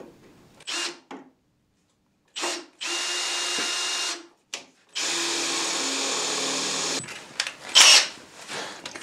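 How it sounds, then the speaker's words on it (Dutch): An electric drill whirs in several bursts, short starts then a long sustained run, close and loud with brief pauses between. "dus ik doe eerst een kleinere boor"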